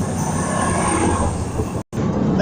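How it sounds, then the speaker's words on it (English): A CrossCountry passenger train departs Durham station, giving a steady loud rumble and rolling roar close by, with a brief dropout near the end. "Departing now is cross country service to Plymouth"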